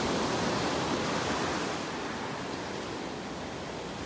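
Ocean surf rolls onto a hazy, humid beach in North Naples, Florida, a continuous dense hiss and wash of breaking waves, loud and steady with a slight easing, no voices.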